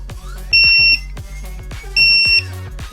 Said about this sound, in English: you can obviously hear that very, very loud alarm